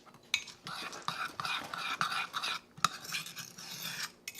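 A spoon stirs chocolate chips into keto cookie batter in a mug, giving soft repeated scraping and light clinks against the sides, close and fairly quiet, with a brief sharp knock partway through.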